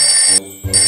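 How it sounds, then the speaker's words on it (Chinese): A telephone ringtone plays a short, bright electronic melody of a few tones, loud and close, with no talking over it. "电话响了"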